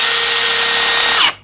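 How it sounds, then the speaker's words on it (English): Milwaukee Fuel cordless drill driving a deck screw into a 4x4 wood block, a loud steady high whine running unbroken for over a second before cutting off abruptly. "Test number 1 is going to be the Milwaukee Fuel drill deck screw into a 4x4 piece of block wood."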